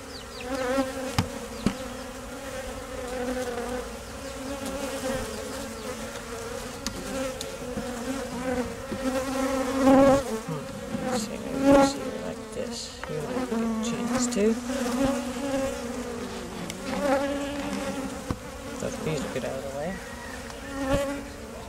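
Honey bees buzz steadily and densely close by during a no-kill hive removal, a sustained drone that swells and dips for the whole stretch.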